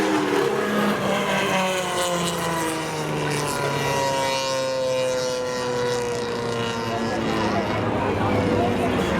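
Drag racing cars, including a Pontiac, roar past at Seekonk Speedway during a spectator drag event, their engines sweeping up and down in pitch under continuous announcer talk.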